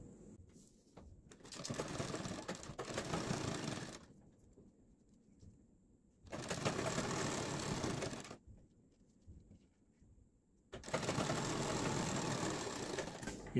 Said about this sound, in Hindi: अंदर फोल्ड करके जस्ट आपको निशान के ऊपर यहाँ पर करके एक सिलाई लगानी है।